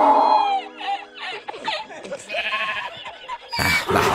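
A donkey in the Minecraft video game lets out harsh, braying bleats in bursts across a few seconds, close and fairly loud, alongside other game sounds, ending in a louder noisy burst.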